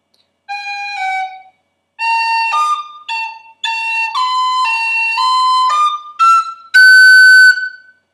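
Tin whistle plays a section of the Irish tune The Connachtman's Rambles, close and alone: two short phrases with pauses between, bright tongued and slurred notes, ending on a long held high note.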